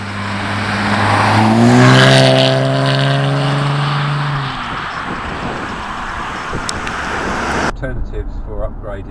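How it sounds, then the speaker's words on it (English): A supercharged Jaguar F-Type sports car, tweaked to run a little quicker than standard, accelerates hard with a loud rising engine note that climbs through the revs, then settles into a steady cruising drone. "It's a nippy little sports car."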